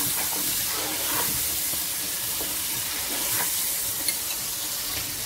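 Pulao ingredients fry in a pan with salt and crushed chili, giving a steady close sizzle and hiss throughout, with soft scraping stirs now and then and no talking.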